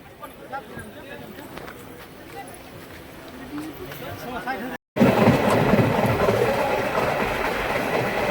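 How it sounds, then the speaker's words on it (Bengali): The Tinpahar–Rajmahal passenger train pulling slowly away from Murli halt, a low rumbling roll that swells suddenly louder after a short gap, with voices heard over it. "মুরলি হল্ট ছেড়ে ট্রেন দেখতে পাচ্ছেন ধীরে ধীরে এগিয়ে চলছে।"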